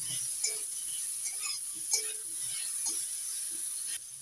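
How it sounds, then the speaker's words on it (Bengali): Mango pieces frying with salt and turmeric in a pan for a hilsa fish sour curry. Close, soft sizzling comes with scattered clicks and scrapes of stirring, without speech. "এবার একটু ভেজে নিচ্ছি"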